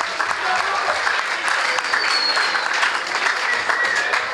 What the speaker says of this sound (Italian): Facciamo un bel applauso a Paolo Maria Noseda.